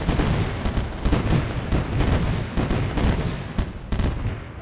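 Artillery fires in the game M.A.C.E. Tower Defense, as a rapid series of punchy thuds with a steady rhythm, close and fairly loud.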